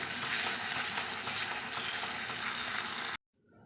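Loud, steady sizzling from a frying pan as a spinach filling is stirred, with scraping, cutting off abruptly near the end.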